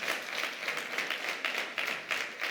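Church congregation clapping in praise to the Lord, a fairly faint, rhythmic burst of many hands with regular pulses, heard alone without speech.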